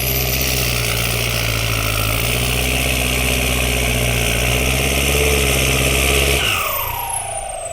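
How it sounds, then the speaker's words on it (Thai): A Kubota L5018 tractor engine fitted with a new turbo and a side-exit exhaust runs loud and close with a deep, steady drone and turbo whistle, then the revs drop sharply near the end. "น่ลองฟังไกล ๆเสียงมันจะดุ มันจะห้าวนะครับผมตัวโบตัวนี้"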